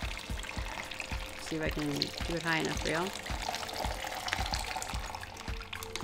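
Water pours steadily into a plant pot filled with LECA clay pebbles, a continuous splashing trickle lasting several seconds, while someone talks over it and a rhythmic thumping sounds in the background.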